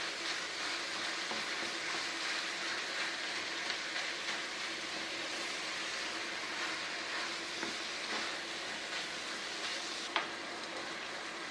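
Meat frying with an onion, garlic and thyme mix, giving a steady, dense sizzle with soft crackle and occasional stirring scrapes. One sharp clink sounds near the end, and no one speaks.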